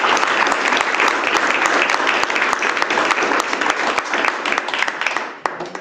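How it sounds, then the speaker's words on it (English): Conference audience giving a round of applause after a talk on net zero case studies in higher education, many hands clapping in a steady, moderately loud wash that tapers slightly toward the end. "Round of applause, I think."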